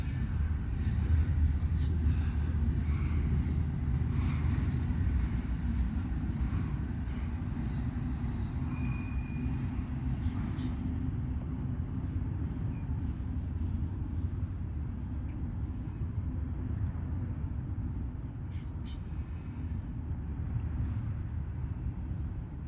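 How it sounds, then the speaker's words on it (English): A short CSX intermodal freight train passes with a continuous low, heavy rumble that holds steady and loud for over twenty seconds, with faint higher squeals and rattles riding on top. "A rather short intermodal, especially by CSX standards today."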